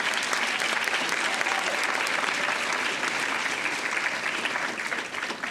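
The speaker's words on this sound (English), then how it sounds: "let's give a round of applause for all of our senior participants" Sustained applause from an awards ceremony audience at a 2024 North Carolina National History Day event, a dense, even clapping that fades slightly at the end.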